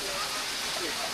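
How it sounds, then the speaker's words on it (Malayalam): Heavy rain pours down near Areeckal waterfall in Piravom, a steady, dense hiss of falling water that fills the clip and cuts off abruptly at the end. "നല്ല മഴ."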